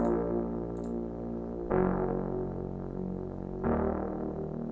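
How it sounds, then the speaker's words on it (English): Synth mid bass with a midrange-focused, slightly gritty tone, playing sustained notes with fresh attacks at roughly two-second intervals, moderately loud and without voices. "it's the mid bass, and sounds like this actually."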